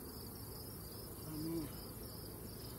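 A steady, soft drone of honey bees buzzing around their hives outdoors hums throughout, with a faint high chirping layer above it.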